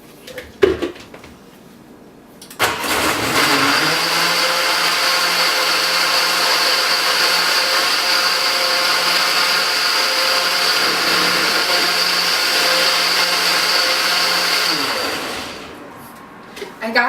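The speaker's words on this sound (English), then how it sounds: "I recommend getting a KitchenAid blender" A KitchenAid blender blending a sauce for brisket tacos starts with a loud roar, holds a steady whirring drone for about twelve seconds, then winds down, with faint kitchen sounds before and after.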